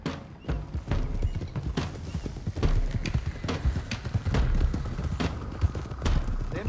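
Horses gallop in Red Dead Redemption 2, hooves clip-clopping in quick, uneven bursts with heavy thuds, occasional whinnies and distant booms mixed in, loud and close.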